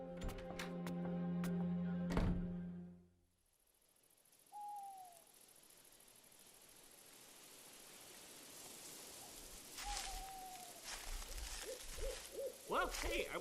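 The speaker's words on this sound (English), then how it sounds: "I wonder if that owl's headed there too" An owl hoots twice, softly and at a distance, over a hushed nighttime backdrop with a faint hiss, following a burst of music in a Halloween scene.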